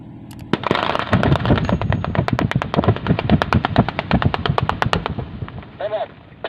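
Gunfire in a film about mining: a long run of sharp, loud automatic shots in quick succession for several seconds, ending in quieter tail noise.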